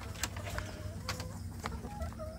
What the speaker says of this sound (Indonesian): saya memberi makan anak ayam kampung saya sedulur yang betina